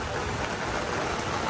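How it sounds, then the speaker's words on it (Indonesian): Steady rain falls at Pagaralam, a close, dense patter with a constant hiss that continues unbroken for a moment. "Aduh hujan."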